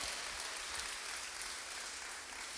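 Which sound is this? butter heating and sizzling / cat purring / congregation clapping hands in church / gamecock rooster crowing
congregation clapping hands in church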